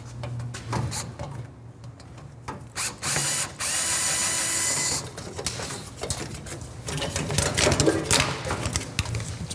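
A ratchet works bolts loose under a Challenger with a 440 Six Pack, rapid clicking pawl bursts at close range mixed with mechanical clatter and some background talk.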